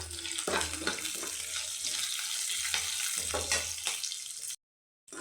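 Green chillies sautéing in a pan, a continuous close hiss of frying with occasional stirring scrapes and low thumps, no talk, cutting off abruptly near the end.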